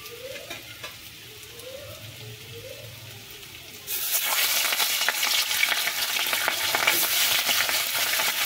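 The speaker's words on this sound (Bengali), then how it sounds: "মাছটা ভেজে নিই।" Fish and fish roe hit hot oil in a kadai, a loud sizzle that bursts in partway through and then holds steady and close, after a quieter stretch with faint tonal background sounds.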